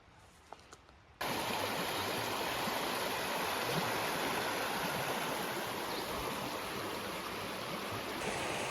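A river flows steadily right beside a campsite on an Appalachian Trail thru-hike in Tennessee, a continuous loud rushing wash that starts abruptly after a quiet second and holds unbroken to the end.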